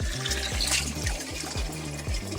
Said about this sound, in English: We hit the jackpot. Fresh spring water.